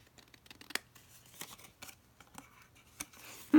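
Scissors cutting paper for a handmade book embellishment, a string of short crisp snips at an uneven pace, close and fairly quiet in a still room, ending with a louder knock.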